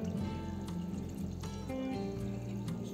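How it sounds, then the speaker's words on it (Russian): Cold water poured into a filter jug while making cold beetroot soup at home, a continuous liquid gurgle with a low, steady filling tone and faint kitchen background. "Я иду заливать все холодной водой."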